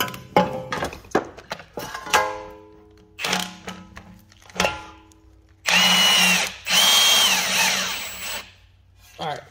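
Power tool tightening on a 2014 Toyota Venza wheel bearing replacement, several short whirring bursts with thunks between, then two longer loud runs; a voice can be heard between the bursts.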